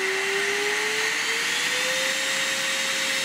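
Redmond RV-UR356 cordless vacuum cleaner running at maximum power, a constant close whine and airy rush with the motor pitch creeping slightly upward.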